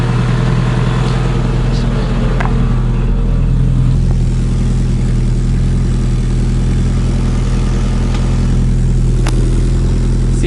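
An AWD Honda engine with a full custom exhaust runs steadily and loudly up close, its low rumble and hiss coming from a leak at the V-band joint, with a voice talking over it in cold weather.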